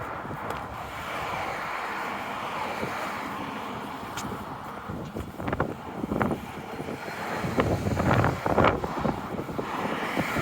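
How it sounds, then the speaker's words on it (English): Steady wind roars across the microphone while walking outdoors along a city road, with gusty buffeting that swells and grows rougher toward the end, and no talking. "at least I got the wind at my back on the way in"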